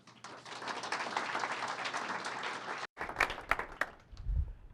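Audience applause at a Green Bay community celebration, a dense, sustained wash of many hands clapping that cuts off briefly, then gives way to scattered claps and a voice beginning to talk.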